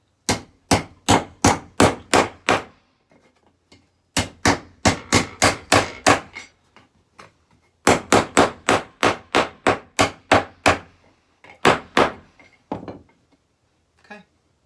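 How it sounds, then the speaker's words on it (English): A hammer beating silverware flat on a hard surface, delivering quick runs of sharp, loud metallic blows in four rhythmic bursts separated by short pauses. "take your hammer, and all you're gonna do is you're just gonna beat the living daylights out of it until it's flat like a pancake"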